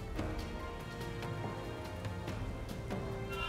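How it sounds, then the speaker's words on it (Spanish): Soft steady rain falls in Pokémon Scarlet, a faint patter with scattered drop ticks over a quiet hum of game music. "Uy, se puso a llover."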